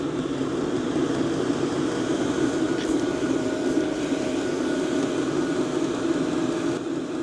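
A workshop diesel heater running with the cover removed from its air inlet, giving a loud, steady droning roar with a low hum and airy rush, constant and close with no pauses.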